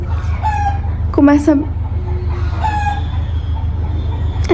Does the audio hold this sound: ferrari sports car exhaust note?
no